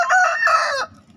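A Bangkok plaker rooster, a chicken line descended from American Californian stock, crows once close by, loud and harmonic for almost a second before breaking off into quiet.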